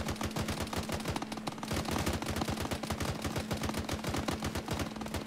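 Dense, rapid gunfire from a large infantry firefight in the military game Arma, fought around beach bunkers. Bursts and single shots crackle almost without pause over a steady low hum, loud and close with no talking.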